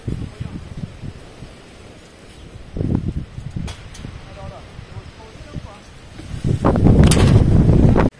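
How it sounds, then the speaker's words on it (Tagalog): Gusts of strong wind buffet the microphone in bursts, loudest toward the end, with faint voices talking underneath. "Kasi sobrang hangin."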